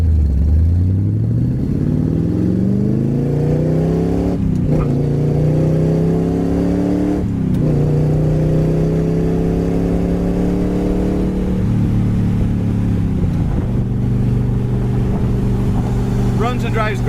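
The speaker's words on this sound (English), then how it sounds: "Motor runs really good" Engine of a 1968 Chevrolet Corvette roadster running steadily and loud, with several revs rising and falling, a deep rumbling tone throughout and a voice speaking at points.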